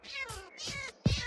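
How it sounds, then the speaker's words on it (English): A Minecraft cat meows in distress while being suffocated inside a block in the video game, giving three short, close, clear meows, with the last one louder and harsher. "Oh, I suffocated a cat."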